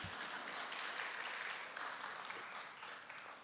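A church congregation at a Friday worship service claps in a sustained, dense wash of applause that sounds fairly distant and soft and fades slightly toward the end.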